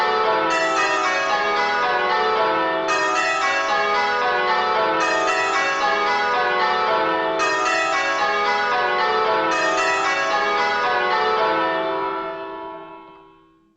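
Church bells ring in repeated descending rounds with bells 1 and 2 swapped in the order, a steady cascade of bright overlapping strikes that rings on evenly before fading out at the end.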